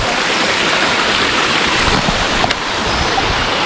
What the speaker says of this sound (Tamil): சின்ன சின்ன நீரோட்டம் மாதிரி அப்படியே வந்துட்டுருக்கு